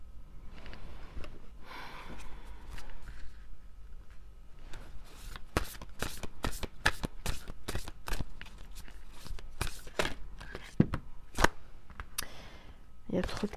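Tarot cards being shuffled during a love reading, a run of sharp crisp riffling snaps and flicks, close and fairly quiet, with low background noise and no clear talk over it.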